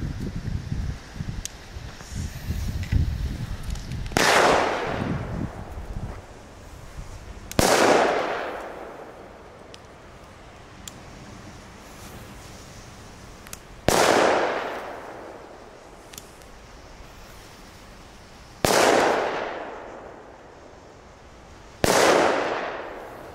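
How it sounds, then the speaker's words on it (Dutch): Firecrackers explode outdoors in a steady series of about five loud, sharp bangs spaced several seconds apart, each followed by a long echoing decay, with faint rustling and wind between them. "Het zijn geen slechte knallen, hoor."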